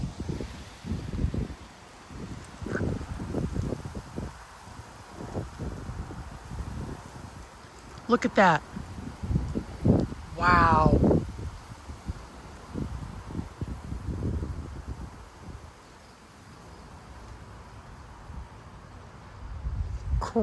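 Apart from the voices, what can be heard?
strong wind gusts rustling tree leaves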